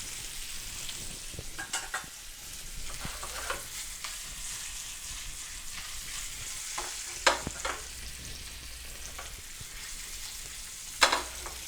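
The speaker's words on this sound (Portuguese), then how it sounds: "A gente puxa o alecrim e o alho sempre para estar em contato com a manteiga." A pork fillet sears in butter with rosemary and garlic, a continuous crackling sizzle in the pan punctuated by occasional scraping and clinking as the herbs are moved.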